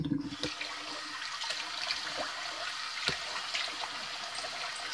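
Warm tap water runs steadily into a sink for rinsing after a wet shave, a continuous close hiss with a few small splashes and clicks.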